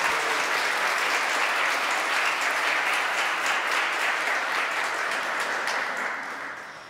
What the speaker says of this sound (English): And a nice round of applause for Mrs. Lansky, our choral director.